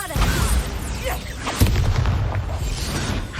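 Magical spell blasts from Bombarda and Confringo in a Hogwarts Legacy duel, a dense run of booming bursts and pops with a sharp loud hit near the middle over a constant rumbling roar.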